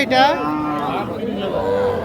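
A four-month-old desi-breed bull calf lows at the Ambari cattle market. A short, close moo rises over a busy background of people talking.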